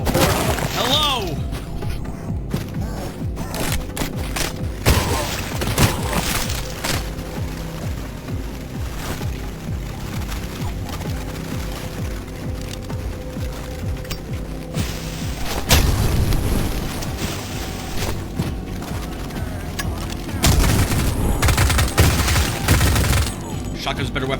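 Shotgun blasts in Cultic while fighting in a swamp, with repeated loud booms and bursts of gunfire over a steady din, a voice speaking over much of it.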